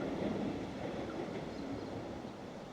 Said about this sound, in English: Off goes the Sparky train.